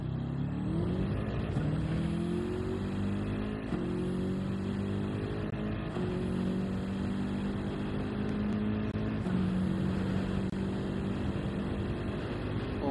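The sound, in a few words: race car engine and braking in Gran Turismo 7 video game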